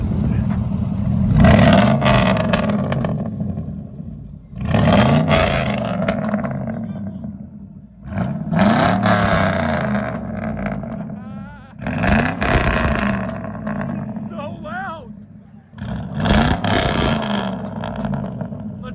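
2004 Chevy Silverado with a 5.3L V8 and true dual straight-pipe exhaust, revving loudly in repeated surges with rumbling idle between, while people talk over it.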